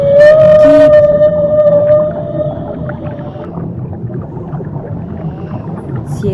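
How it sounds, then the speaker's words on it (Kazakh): A whale calls with a long, loud, tonal moan that slides slightly in pitch, then fades into a low rumbling wash of ocean noise with no voices. "Кит."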